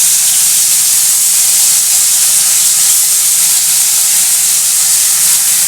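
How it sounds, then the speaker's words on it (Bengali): Marinated boal fish hits hot oil in a pan for a Bengali fish curry, giving a loud, steady, close sizzle that hisses without a break and with no talking. "এই যে মাছগুলো মাখিয়ে রেখেছি, এইটা আমি আস্তে করে এর মধ্যে ছেড়ে দেবো।"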